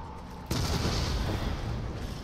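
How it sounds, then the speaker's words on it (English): Grenade explosion in the Resident Evil 7 video game, Not a Hero DLC: after a quiet moment, a sudden sharp blast erupts into a sustained, fairly faint rumbling roar that lingers and slowly fades. "I'm gonna throw a grenade on him."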